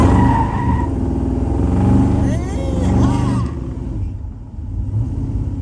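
A 1957 Chevrolet Nomad's engine rumbles and builds as the car accelerates, with a steady low drone and tire noise, while a person talks over it.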